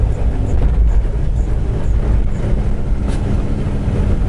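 Train braking with a loud, continuous low rumble and grinding, a faint brief squeal near the end, heard close and steady throughout without talk.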